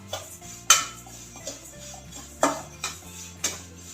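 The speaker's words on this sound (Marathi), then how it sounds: "तीळ भाजून घ्यायचे।" Sesame seeds dry-roasting in a pan over a medium-low flame, heard mostly as sharp metallic clinks and scrapes of a spatula against the pan, spaced irregularly with quiet gaps between.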